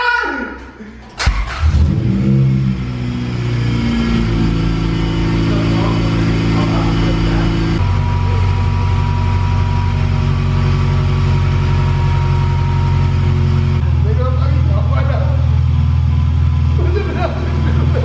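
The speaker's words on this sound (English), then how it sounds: "my man's over here got the car running" An Acura Integra engine runs during motor mount replacement, a loud close mid-pitched idle with steady harmonic drone that shifts pitch in stages as it's revved, with people talking over it.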